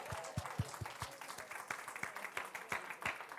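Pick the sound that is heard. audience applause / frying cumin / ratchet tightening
audience applause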